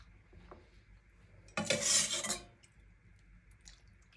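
A steady pour of milk into a pot, a broad rushing splash lasting about a second, with faint clinks of cookware before and after.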